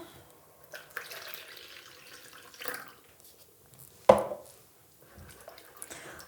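Water is poured into a bowl of salted dough mixture, a short splashing pour near the middle amid quiet kitchen handling noises.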